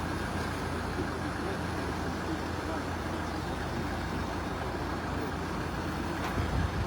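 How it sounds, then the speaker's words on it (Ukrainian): A tow truck idles at a crash scene on Pratsi Avenue in Dnipro, where it is removing a badly damaged Skoda car that hit a tree, with a steady broadband engine rumble and street traffic throughout. "На місце інциденту приїхав евакуатор"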